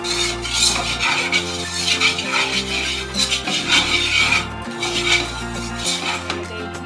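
A utensil stirs butter and flour in a metal pot with steady, close scraping and clinking against the sides in a repeating rhythm, and a low hum runs underneath.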